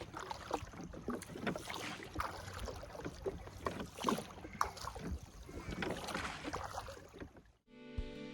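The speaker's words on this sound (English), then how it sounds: "I had about a mile to row." A small boat is rowed about a mile toward a secluded beach ringed by thick woods, with rhythmic oar strokes splashing and dipping close by amid wind noise on the water.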